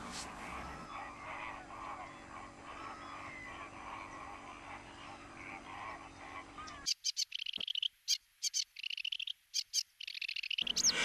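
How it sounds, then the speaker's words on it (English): Wild birds at Lake Kerkini in northern Greece chirp and call over a steady background chorus with frogs. Later, sharp, separate bird notes ring out in short bursts against near silence. "there are exciting birds and wildlife here throughout the year"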